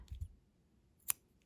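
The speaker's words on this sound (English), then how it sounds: "grab your scissors" A single crisp snip of scissors cuts through crochet yarn, sharp and close in a quiet room, preceded by a couple of soft low handling thumps.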